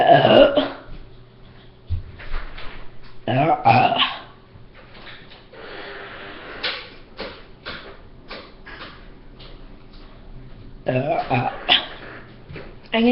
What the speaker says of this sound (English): I've been burping.